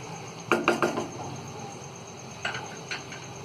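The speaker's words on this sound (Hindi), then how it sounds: "अब इसमें हम ये नींबू का रस डाल देंगे। इसे भी अच्छी तरह चला के" A spoon scrapes and clinks against a pan while lemon juice is stirred into arvi (taro root) curry with gravy: a quick cluster of close metallic taps, then two lighter clinks after a pause, with no talk.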